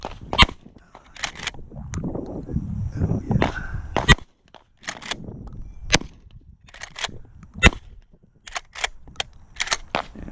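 Rifle shots ring out outdoors near a 2019 Ram Rebel pickup: about a dozen sharp, loud single cracks spaced irregularly, with handling noise between them.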